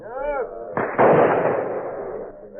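A hunter's gunshot booms once, loud and close, and its heavy rumble decays over a second or more after a brief tonal sound at the start.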